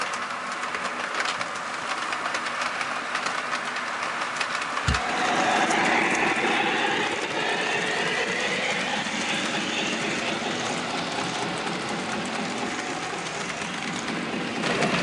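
An American Flyer model passenger train with a baggage car and Lark passenger cars rumbles steadily along its track with continuous clickety-clack rolling noise, fairly close, with no voices.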